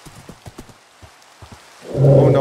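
Minecraft horse sounds in a horror-mod game: a run of quiet, rhythmic hoof clops spread through the clip, followed by a louder, sustained burst of noise at the end.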